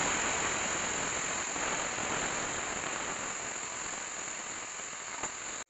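Boiled cauliflower frying in hot oil in a wok for a vegetarian moong dal and cauliflower dish, giving a steady, dense hiss of sizzling that holds evenly throughout, close and fairly loud, with no talking.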